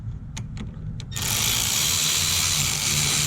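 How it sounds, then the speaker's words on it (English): A hand ratchet clicks a few times on the rear brake caliper bracket bolt of a Ford Mustang GT350, then a loud steady broadband hiss takes over and continues to the end. "Help if my ratchet was going the right direction."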